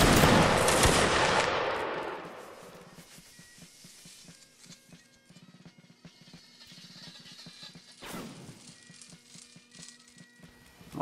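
Musket volley fired in a Napoleonic Wars line battle video game, a loud crackling burst of many shots at the start, fading into scattered distant pops, with another volley near the end.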